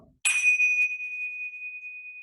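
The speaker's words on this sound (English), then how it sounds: "And this is the sound of the bell." A single bell is struck once during a home yoga session, ringing out clearly with a bright, pure tone that sustains and slowly fades over about two seconds in a quiet room.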